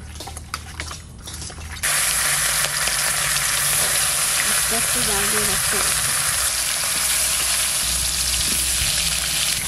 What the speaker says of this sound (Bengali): মাছটা ভাজা করব।